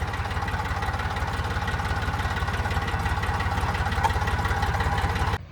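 A Sonalika tractor engine runs nearby with a steady, rapid diesel chug, holding an even rhythm before cutting off abruptly just before the end.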